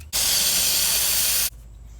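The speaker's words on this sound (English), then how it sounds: "I'm just going to take some brake cleaner and a rag and go around just to make sure there's no oil or dirt or grease" Brake cleaner sprayed onto the valve cover gasket mating surface of a 2004–2015 Nissan Titan: a single loud, steady aerosol hiss lasting under a second and a half, close up, with no talking.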